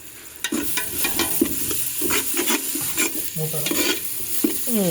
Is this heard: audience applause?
no